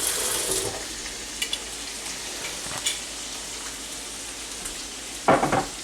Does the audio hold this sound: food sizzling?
yes